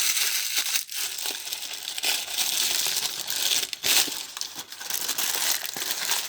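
Baking parchment scrunched up by hand, a dense continuous crackling and crinkling of paper up close, with a few brief pauses between handfuls.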